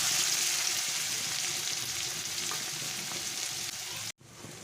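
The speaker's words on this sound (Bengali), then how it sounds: "ওই তেলে আমি পেঁয়াজটা ভালো করে ভেজে নেব" Sliced onion frying in oil left over from frying pomfret fish makes a continuous, fairly loud sizzle with soft crackle, stopping abruptly just before the end.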